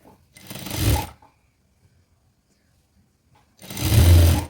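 An electric sewing machine stitches a shirt collar in two short, fast whirring runs, loud and close, separated by a few seconds of near silence.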